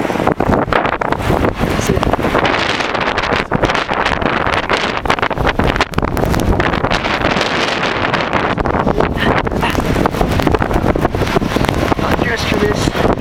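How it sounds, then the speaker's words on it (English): Strong blizzard wind roars at a gas station during a whiteout in northwest Indiana or southern Michigan, a loud, continuous buffeting rush across the microphone that never lets up. "It's very windy."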